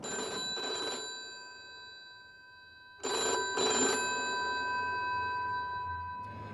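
An old telephone bell rings in two bursts a few seconds apart, each a bright metallic double trill, with a quiet gap between them.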